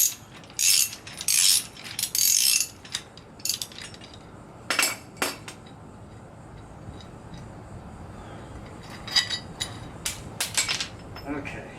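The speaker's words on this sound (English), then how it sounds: "they need to be pulled off, unscrewed completely by wrench." Hand work with a wrench unscrewing parts from a canoe dolly wheel: bursts of metallic ratcheting and rattling in short clusters, close by, with quieter gaps between.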